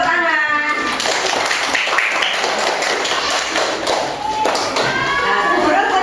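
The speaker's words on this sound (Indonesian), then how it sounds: "Tepuk tangan." A fifth-grade elementary classroom of children breaks into quick, scattered clapping, close and bright, with children's voices mixed in throughout.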